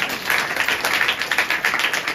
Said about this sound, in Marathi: टाळ्या वाजवून.